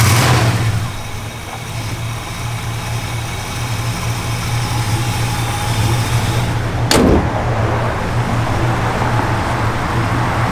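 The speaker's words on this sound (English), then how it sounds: "Turn the key, fires right up, just runs as sweet as can be." A 1964 Oldsmobile Dynamic 88 engine runs at a steady, loud, close idle with a deep low rumble throughout, broken near the end by a single sharp clunk.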